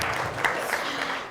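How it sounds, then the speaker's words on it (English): Audience applause fills a hall at a 2019 Oxford keynote interview. It is a steady, dense wash of many hands clapping, close and even throughout the brief moment. "I think you deserve applause."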